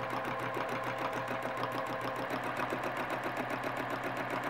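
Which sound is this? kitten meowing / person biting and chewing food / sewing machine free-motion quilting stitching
sewing machine free-motion quilting stitching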